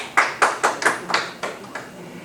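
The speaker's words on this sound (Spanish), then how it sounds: "Gracias por los aplausos" Scattered, sparse clapping at a Spanish-language book presentation, several distinct hand claps spaced apart that fade out toward the end.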